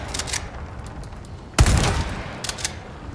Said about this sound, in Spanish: Se aseguraron de que cada disparo y cada recarga no solo se sintiera realista, sino también satisfactorias auditivamente.